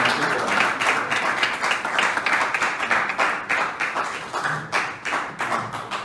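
Indoor crowd at a political town hall meeting in Ghana claps steadily and fairly loudly, a dense, continuous patter of hands throughout.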